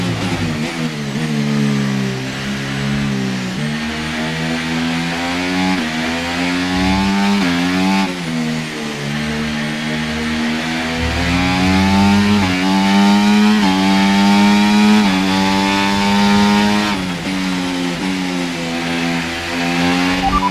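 F1 car engine in the F1 24 video game at Spa, a loud, high-pitched continuous whine that rises and falls through gear changes, sustained for the whole stretch without talk.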